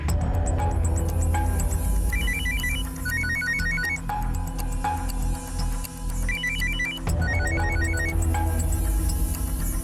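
Mobile phone ringtone for an incoming call in a crime drama scene, a repeating electronic melody of quick tone bursts in two rounds over a dense background music bed.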